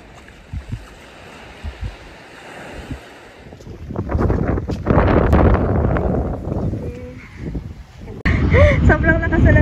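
Strong wind buffets the microphone on a beach, starting in scattered gusts and then roaring loudly and continuously, with surf behind it and a person's voice near the end.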